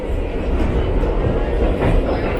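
A rusty, run-down New York City subway train rolls along with a steady loud rumble and rail clatter, heard from inside the car with no talk.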